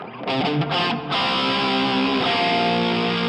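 An electric guitar plays through a Line 6 POD set to a crunch tone, with a short strummed chord ringing out loud and sustained for a few seconds with no talking.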